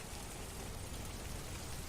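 Steady rain pouring outdoors in Detroit: Become Human, a dense, even hiss of falling drops and splashes, fairly close with no talk.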